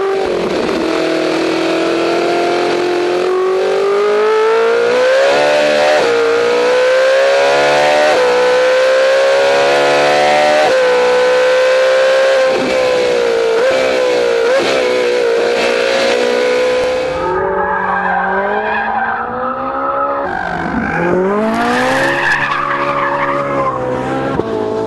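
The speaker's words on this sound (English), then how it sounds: "We could go on about the noise too, but shall we let the engine do the talking instead?" A Ferrari 458 Italia's engine at full cry, a high, rising and falling mechanical wail as the car accelerates hard through the gears, loud and close for about twenty-five seconds, with tire squeal and a sharp shift or throttle lift near the end.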